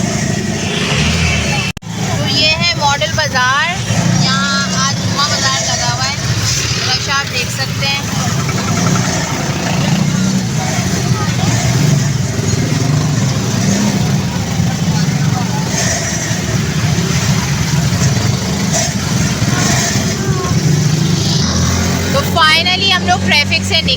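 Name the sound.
street traffic with motorbikes and chingchi rickshaws in Kasur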